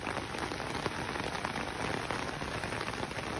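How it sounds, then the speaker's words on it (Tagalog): Heavy monsoon rain pours steadily onto surfaces during an all-night downpour with flooding, a dense continuous hiss and patter that stays loud and even throughout, with no voices. "Magdamag na yung ulan tapos hanggang ngayon pa."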